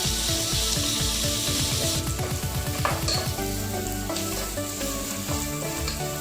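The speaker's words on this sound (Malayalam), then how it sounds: "സവാളയെല്ലാം നന്നായിട്ടൊന്ന് വാടിയതിന് ശേഷം മാത്രമേ നമുക്ക് തക്കാളി ചേർത്ത് കൊടുക്കാൻ പറ്റുള്ളൂ." Onions sauté in a pan for tomato rice with a loud, continuous sizzle. Rapid rhythmic scraping strokes come early, then slower stirring as the frying carries on.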